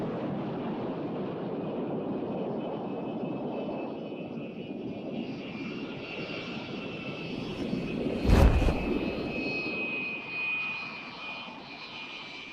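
A high-altitude spy plane drones in a steady, distant roar for the whole stretch, with a brief gust of wind buffeting the microphone near the end.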